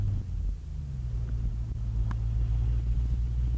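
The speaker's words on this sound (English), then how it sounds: "there's a lot of cars coming up here" Steady low rumble of cars climbing the road to Jerome, Arizona, a continuous droning traffic hum heard from nearby with no talking over it.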